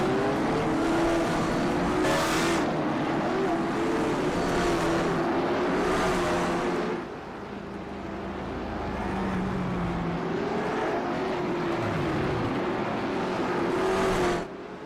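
A field of stock cars in a sim racing game rolls away at Martinsville Speedway, a steady loud engine drone with layered cars that dips partway through and rises again, with no voices.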